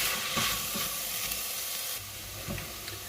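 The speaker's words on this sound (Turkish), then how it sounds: "Şimdi üzerine havuçlarımızı ilave edip 2-3 dakika daha kavuruyoruz." Chicken and carrots sautéing in a pan, a close, steady sizzle and frying hiss with occasional stirring scrapes and no talk.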